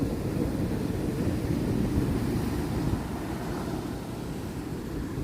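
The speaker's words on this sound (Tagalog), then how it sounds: "Malakas ang agos, malakas ang alon." Strong sea waves and wind on a beach at San Juan, La Union, facing the West Philippine Sea: a continuous loud roar of surf and wind buffeting, easing slightly toward the end.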